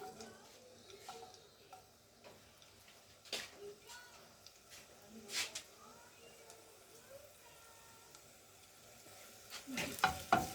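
Three or four garlic cloves sautéing in a little oil for white sauce pasta: soft, intermittent sizzling with scattered clicks and scraping stir sounds, fairly quiet, growing busier toward the end.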